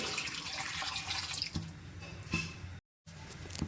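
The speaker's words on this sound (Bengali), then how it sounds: "আমি এখানে পরিমাণ মতন জল অ্যাড করে দিচ্ছি" Water is poured into an okra curry cooking in a pan, a close, fairly quiet splashing and trickling with a short silent gap near the end.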